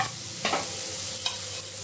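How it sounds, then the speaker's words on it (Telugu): Radish frying in a tablespoon of oil in a pan, stirred by hand while making radish chutney; a steady close sizzle with a couple of brief scraping stirs. "తర్వాత మనం ముల్లంగడ్డని ఫ్రై చేసుకోవాలండి."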